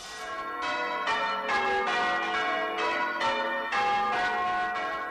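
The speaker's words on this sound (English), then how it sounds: "the oldest circle of bells in the world are once again in their original belfry" The world's oldest ring of church bells, in their original belfry, ringing in overlapping peals, rich and resonant, several strikes in quick succession with lingering hum, moderately close.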